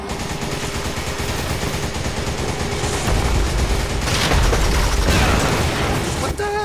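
Dense rattle of gunfire and booms from the video game Resident Evil 5, shots fired at a boulder amid a busy game soundtrack, loud and continuous throughout.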